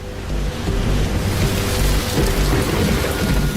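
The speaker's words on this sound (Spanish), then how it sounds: "la humedad cae en forma de lluvia torrencial" Heavy, steady downpour roars close by, with deep thunder rumbling through it. There are no voices.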